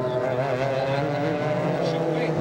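Two Porsche race cars at Lime Rock during a 2000 GRAND-AM race roar past in a steady, loud engine drone, with a commentator talking over it.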